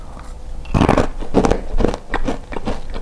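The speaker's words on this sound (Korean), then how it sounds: "이거 어제 제가 만든 비건 쿠키예요. 한번 테스트를 해보려고 지금 먹을게요." Crisp bites and crunching chews into a crunchy homemade vegan cookie with macadamia nuts, several loud, close crackling bursts in quick succession with no talk.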